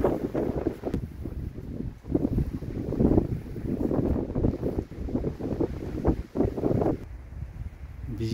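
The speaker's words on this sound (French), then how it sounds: "Toujours du vent." Strong wind buffets the microphone in steady gusts, producing a continuous blustery roar with no voices.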